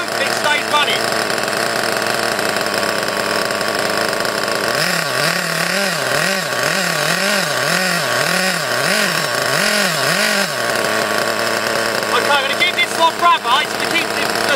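Small nitro engine of an Ansmann Virus 2.0 BigBlock RC buggy, freshly run in, idling loud and close with a wavering, rising and falling throttle buzz through the middle, then settling back to a steady rattle.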